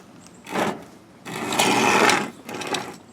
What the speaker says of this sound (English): And then down here we've got, I believe it's a serger.